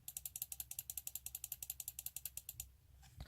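Rapid, evenly spaced button clicks from a Zowie Gear EC2-B gaming mouse, about two dozen crisp near clicks in a steady run before stopping, with no talking.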